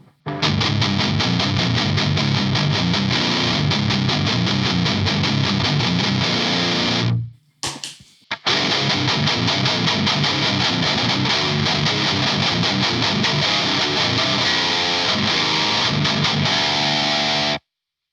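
Heavily distorted 7-string guitar chords through a Marshall amp with a Fortin 33 boost, played loud and dense for several seconds, a short break, then another sustained stretch of crunchy chords.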